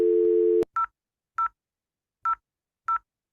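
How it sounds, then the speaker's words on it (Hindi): DTMF tones from a telephone handset being dialed: a steady dial tone cuts off, then four separate short keypad beeps follow at uneven intervals, clear and close with no talk. "अब मैं इस टेलीफोन से इस नंबर डायल करके दिखाता हूँ"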